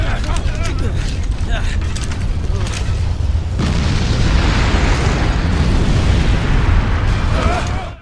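Explosions, booms and gunfire from the video game Disaster: Day of Crisis, with a volcanic eruption outside and shooting through a power plant; a dense, continuous roar of loud bursts runs the whole stretch, with a voice talking at moments.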